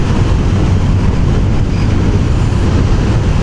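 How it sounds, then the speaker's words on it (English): Steady wind buffeting a car driving uphill through the Peak District, a loud, continuous low roar with no breaks or talk. "the wind is right on us again"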